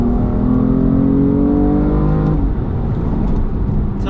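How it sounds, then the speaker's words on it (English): A BMW M4 F82 engine revs hard with a rising roar, exhaust in Sport Plus mode, then drops off into a burbling, crackling exhaust rumble, loud and close. "we've got the exhaust on Sport Plus."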